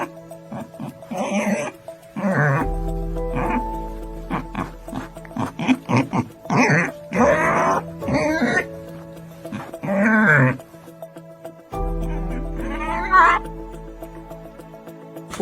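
Domestic pigs on a farm grunt and squeal in irregular bursts, some loud and close, over a steady low mechanical hum with faint gaps between the calls.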